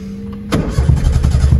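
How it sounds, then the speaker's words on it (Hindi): A car engine cranks and catches with a sudden burst, then settles into a loud, rough idle close by. "गाड़ी स्टार्ट हो गई"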